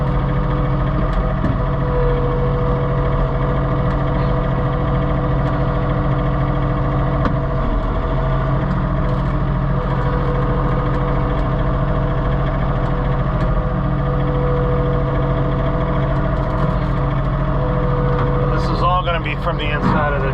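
A John Deere 3046R compact tractor clearing snow with a snow blower, heard from inside the cab: a steady, loud engine drone with a constant low hum and mechanical vibration, continuous for the whole stretch.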